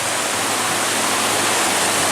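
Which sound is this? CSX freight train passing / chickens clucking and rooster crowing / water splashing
water splashing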